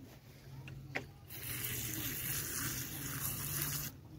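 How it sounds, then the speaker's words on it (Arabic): Water is sprinkled over freshly planted seeds in soil. A quiet gushing, splashing wash starts after a few faint knocks and holds steady for a few seconds before stopping abruptly. "ورشة ميه."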